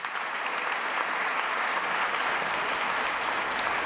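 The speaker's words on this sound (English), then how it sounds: "let's give them another round of applause" Sustained audience applause during the Rhode Island State of the State address, a dense, even roar of many hands clapping across a large hall, swelling slightly after the start.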